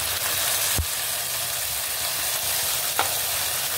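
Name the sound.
onion frying in pan while being stirred for biryani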